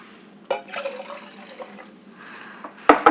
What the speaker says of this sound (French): par prendre un contenant, on va mettre l'eau et le vinaigre